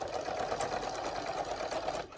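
A sewing machine runs steadily while stitching piping onto a round boxed cushion, giving a close, continuous whirring hum with no pauses and no talking.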